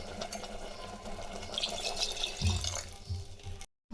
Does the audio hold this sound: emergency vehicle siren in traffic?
no